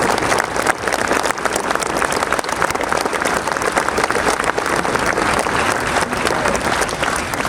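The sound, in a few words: audience applauding the police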